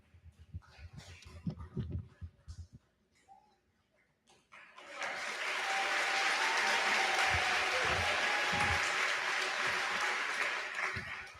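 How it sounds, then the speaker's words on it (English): At a graduation ceremony, a crowd breaks into sustained applause for the graduating scholars, a broad wash of many hands clapping that swells and holds for several seconds after a quieter stretch of low murmur and shuffling. "Please give these outstanding scholars another round of applause"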